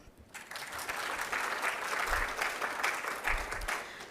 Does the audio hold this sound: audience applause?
yes